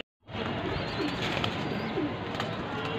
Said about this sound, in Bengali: সবগুলোই রানিং কবুতর, সবগুলোই ইয়াং বার্ড